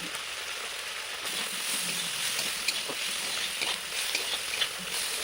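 Spices with ginger garlic paste, salt and turmeric frying in a pan, giving a steady bright sizzle with soft scraping stir strokes throughout, close and unaccompanied by talk.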